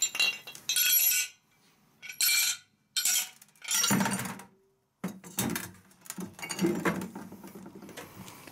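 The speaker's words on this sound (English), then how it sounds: "First, I'm gonna get the base off by using a drill bit," A drill bit is slammed into the thick base of a glass tequila bottle, giving several separate sharp, rattling glass impacts and grinding bursts with brief quiet gaps between them.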